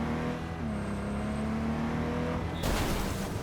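A video game car drives along with a steady engine hum that holds a low tone, then a sudden broadband rush of road and wind noise cuts in near the end, loud and with no talking.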